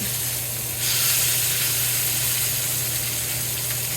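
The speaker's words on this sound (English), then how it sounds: "we are trying to sear it" Ahi tuna searing in a hot pan, a loud, steady broadband hiss and sizzle that swells slightly after the first second and holds constant, close by, with no voices.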